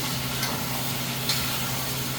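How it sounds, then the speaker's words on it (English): Continuous soft crackling and hissing of meatballs frying in a pan, with a low hum underneath and a couple of light clinks. "You can hear them sizzling right away."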